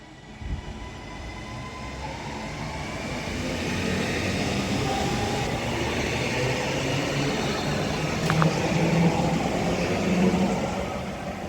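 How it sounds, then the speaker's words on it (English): A Northern Class 331 electric train pulls away from a station platform, its rumbling wheels and motor hum building steadily in volume, with a brief squeal partway through and no voices. "as that 331 departs with a lovely acceleration to its next station of Levenshulme"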